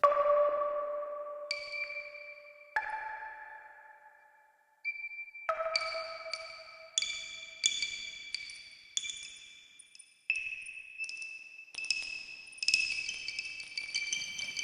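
Eurorack modular synthesizer playing bell-like pinging tones through reverb: a slow sequence of bright, ringing notes, each one struck and then left to decay into a long wash, with no one talking.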